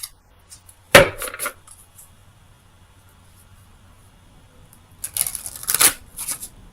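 Oracle of Visions cards shuffled: a sharp riffle burst near the start, a quiet pause, then a longer flurry of papery shuffling, close up and with no talking.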